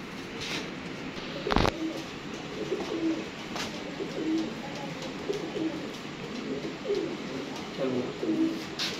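Pigeons coo softly and repeatedly in the background, with occasional louder clicks and a steady outdoor hum.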